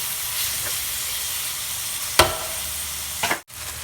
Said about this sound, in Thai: เราก็จะเอามาผัดคลุกเขาเข้ากันเนาะให้มันสุก